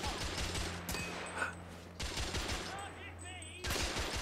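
Gunfire in the shooter The Order: 1886, several dense bursts of shots packed together, loud and close, with gaps between volleys.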